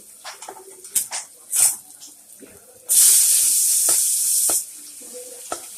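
Chopped onion hits a hot pan with curry leaves and crushed garlic for bitter gourd curry, bursting into a loud, steady sizzle that lasts under two seconds amid scattered utensil clicks and clatter.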